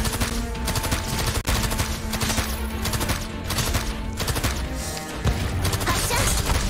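Weapons firing in the strategy game Arknights, heard as a steady loud barrage of rapid shots and impacts throughout, with sharp louder hits near the start and near the end.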